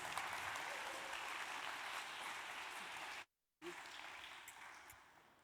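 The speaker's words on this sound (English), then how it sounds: "big round of applause for Anna Peters" An audience at a Czech Convention Bureau afternoon event applauds speaker Anna Peters, a steady, dense round of clapping from a room of people that cuts out briefly and then resumes, fading toward the end.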